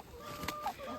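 Hens in a backyard coop give a few short clucks and a rising squawk, close by, over steady low background noise.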